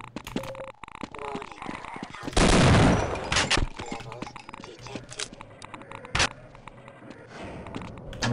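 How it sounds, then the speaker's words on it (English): Gunfire in the game Half-Life arrives as scattered sharp shots and short rattling bursts, with one loud blast near the middle and footstep-like clicks between the shots. "Who's shooting at me?"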